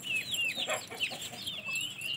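Desi chickens and roosters on a poultry farm cluck and chatter continuously at moderate distance, a soft layered flock sound with no talking.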